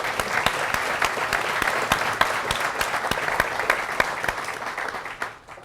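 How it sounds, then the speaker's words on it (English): Audience applause for guests at a lecture evening on new uses for drones, a steady dense wash of many hands clapping close by that holds for several seconds before tapering off at the end. "a round of applause for our guests"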